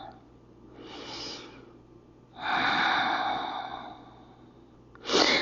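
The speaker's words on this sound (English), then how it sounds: "Big, full, deep breaths." Slow, deep breaths drawn in and let out during a yoga child's pose: a soft inhale, a longer full exhale, then another breath starting, close and quiet with no talking.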